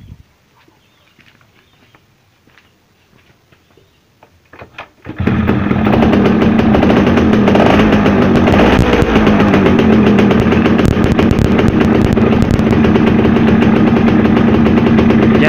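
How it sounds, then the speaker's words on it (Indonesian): A Yamaha F1ZR motorcycle engine, being tuned at the carburetor, starts after several seconds of near silence and then idles loudly and steadily with a dense, buzzing two-stroke rattle. "Oke, sekarang saya nyalakan mesinnya."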